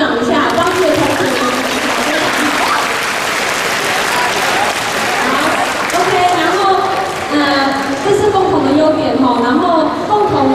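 Students at a high school English video contest review applaud themselves and their classmates in a loud, sustained round of clapping, while voices murmur and speak over the applause throughout.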